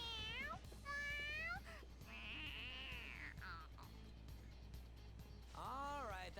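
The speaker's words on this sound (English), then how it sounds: "All right, that's enough, you stupid cat." Cartoonish cat meowing repeatedly in the video game Persona 5 Royal, several rising and falling meows at close range over background music, with a voice heard between them.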